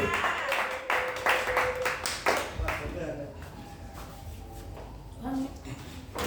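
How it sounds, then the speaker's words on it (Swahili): Congregation at a church service clapping for a young man, a burst of scattered applause in the first few seconds, then fading as a voice speaks over the room. "Pigia kijana wetu makofi mazuri."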